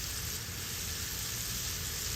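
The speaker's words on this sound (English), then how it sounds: "You want to cover it with the oil and have the fish frying." Seasoned bangamary fish crackle fully covered in hot oil outdoors by a lake, an even, close, hissing sizzle that keeps going without a break.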